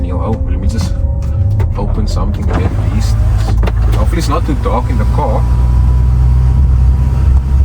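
Electric roof panel on an Audi motoring open inside the car while driving a misty South African mountain road, a steady whirring hum over road rumble and engine drone, with people talking over it.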